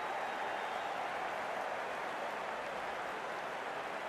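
In a cricket video game, a stadium crowd applauds and cheers as a steady wash of clapping at moderate loudness, with no talk over it.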